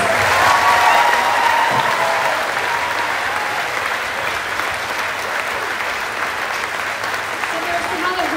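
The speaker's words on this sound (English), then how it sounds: "Let's give them another round of applause." An audience at a performance gives a sustained round of clapping and cheers for the performers, loudest at the start, then steady, with voices beneath it.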